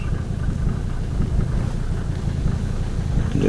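A 1990 Mercedes-Benz 300D 2.5 diesel engine runs with a continuous low droning rumble, mixed with wind buffeting on the microphone, at a moderate, even level.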